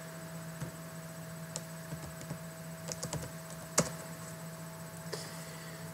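Scattered keystrokes click on a computer keyboard, quiet and irregular with a few brief bursts, over a low steady electrical hum and no speech.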